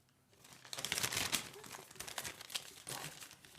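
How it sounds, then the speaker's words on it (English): A paper medicine leaflet is ruffled and crinkled close by, a dense run of dry rustling and crackling bursts that swell and ebb for a few seconds. "Some people like the sound of ruffling paper."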